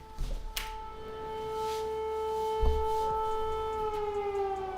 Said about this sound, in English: The siren just started.